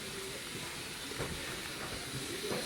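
Steady, broad hiss of steam venting from a steam train on a heritage railway line, continuous and fairly loud with faint mechanical rumbles underneath.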